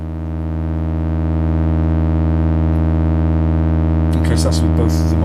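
Two Dubreq Stylophones set up as a drone machine swell in and hold a steady, buzzy, harmonic-rich drone, loud and close, with someone speaking over it near the end.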